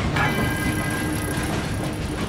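A train runs past close and loud, with a heavy continuous rumble of wheels on rails and a thin metallic squeal riding on top.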